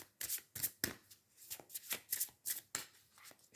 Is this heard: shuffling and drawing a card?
yes